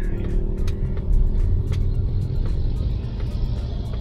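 Mazda CX-80 PHEV Kuro Edition accelerating in EV mode, a steady low road rumble and faint electric motor whine from inside the cabin, continuous with no engine revving.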